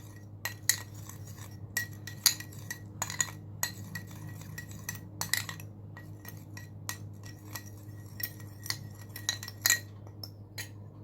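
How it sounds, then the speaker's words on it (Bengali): A spoon clinks repeatedly against a small bowl while a teaspoon of tamarind pulp is stirred and dissolved in a little water, steady light tapping and scraping over a low kitchen hum, with no voices. "এখানে আমি নিয়েছি 1 টিস্পুন তেঁতুলের পাল্প। এটাকে সামান্য একটু জল দিয়ে আমি গুলে নিচ্ছি।"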